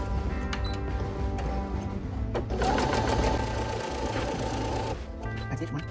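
A sewing machine runs steadily close by, stitching strips of fabric for scarf towels, its rapid mechanical whir holding for a few seconds before stopping, with light clicks around it.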